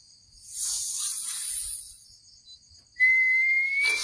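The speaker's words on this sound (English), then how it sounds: "Never answer a whistle you don't know." An eerie drawn-out whistle from a horror app advert, a high airy tone swelling and fading, then a sharper sustained rising whistle that cuts in loudly near the end, heard alone without voices.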